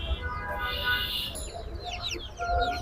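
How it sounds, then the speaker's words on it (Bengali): Layer hens clucking at a Bangladeshi poultry farm, a steady flock murmur with overlapping calls and brief higher squawks under continuous low background noise. "এই লেয়ার বড় সাইজের লেয়ার মুরগিগুলো নিতে পারবেন"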